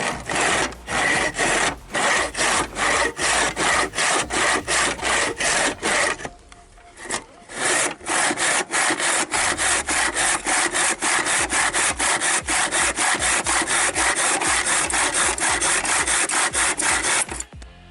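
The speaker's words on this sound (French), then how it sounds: "on coupe sur toute la longueur, de la scie" A hand saw cutting wood in steady, rapid back-and-forth strokes, loud and close, with a brief pause midway before the rhythmic rasping resumes.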